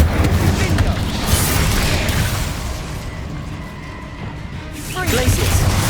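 The Incendio fire spell in Hogwarts Legacy bursts with a heavy, booming whoosh and crackling roar, loud and sustained, fading briefly before flaring again near the end.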